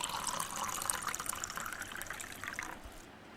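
Two cups of water pour into a pan with two cups of sugar for gulab jamun syrup, a steady close splashing trickle that tapers off near the end, no talking.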